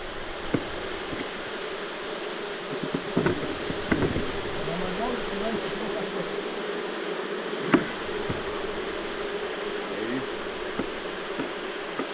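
Steady buzzing of honey bees from an opened colony fills the air, a constant drone with occasional closer passes and faint background noise.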